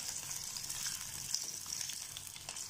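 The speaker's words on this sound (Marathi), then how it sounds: "आधी आपण बटाटे फ्राय करून घेऊ." Potatoes sizzle steadily in hot oil for a UP-style nimona green peas curry, a continuous bright crackling hiss with no voices.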